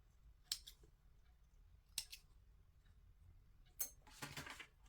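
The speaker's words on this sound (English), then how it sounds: "I'll trim my thread from here." Scissors snipping sewing thread during garment collar sewing, three faint separate clicks and snips spaced over several seconds with a slightly longer rustling cut at the end, quiet and close.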